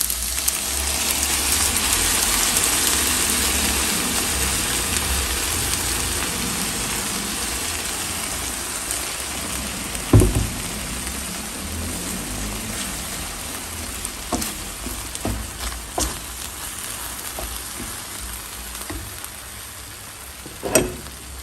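Blended sauce made with sour cream hits a hot pan and sizzles in a crackling hiss that is strongest at the start and slowly eases, broken by a few sharp clinks and pops.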